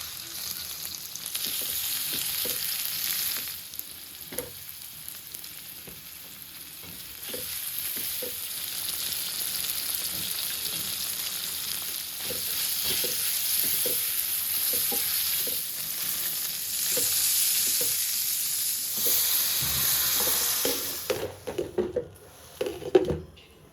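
Bottle gourd leaves with shrimp and garlic fry in a pan with a long, steady sizzle, dotted with light taps and clicks and a few louder knocks near the end.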